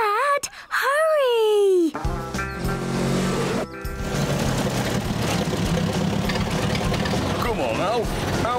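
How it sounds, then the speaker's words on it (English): A low tractor engine rumbles and chugs steadily while people call out and talk over it. "we can't get past your tractor"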